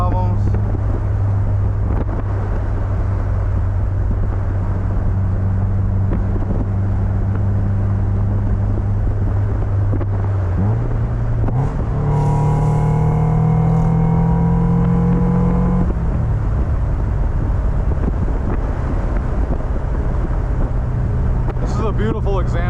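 A 2001 Mazda MX-5 Miata NB2 cruising in sixth gear at nearly 70 mph on a highway, heard from inside as a steady low engine drone with road and wind rumble, rising briefly in pitch midway and continuing unbroken throughout.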